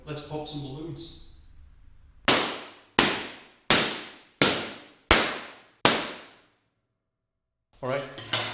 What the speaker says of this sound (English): Alright, so let's pop some balloons.